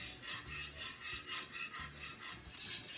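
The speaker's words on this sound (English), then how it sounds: "make sure you whisk it so that way your grits won't be lumpy." A whisk stirs quick-cooking grits in a pot with a quiet, rhythmic swishing and scraping, steady and close.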